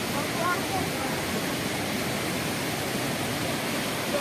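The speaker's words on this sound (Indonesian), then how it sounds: "air terjun Telunjuk Raung yang fenomenal. lumayan tinggi guys, airnya deras" A steady, loud roar of rushing water from the tall Telunjuk Raung waterfall in Banyuwangi, Indonesia fills the whole clip, broadband and unbroken.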